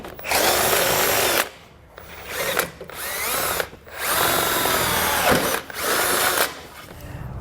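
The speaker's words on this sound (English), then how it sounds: "I'm going to take my drill bit and drill as straight as I can up through the frame" A power drill whines loudly in several long bursts, pausing briefly between them as it bores up through the metal frame of a 2016 Mazda, with no voices.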